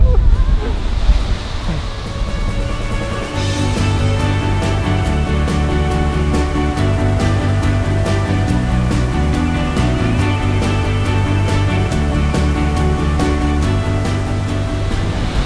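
Standing behind an Icelandic waterfall, a heavy roaring rush of falling water and wind buffeting the microphone fill the scene continuously, loud and close, with no speech.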